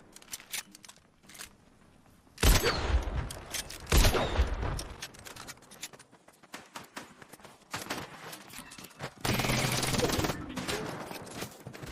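Bursts of gunfire ring out in the Fortnite battle royale, loud volleys in quick succession with quieter shots and clatter between.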